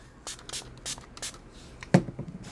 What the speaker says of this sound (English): this is all water spray over here